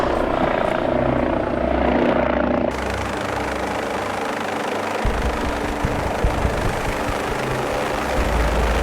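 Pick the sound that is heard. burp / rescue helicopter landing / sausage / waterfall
rescue helicopter landing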